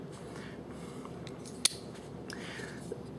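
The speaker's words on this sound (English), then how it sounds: "the automatic blade popping out" A single sharp metallic snap as an automatic knife blade pops open stands out against quiet background noise, followed later by a fainter click.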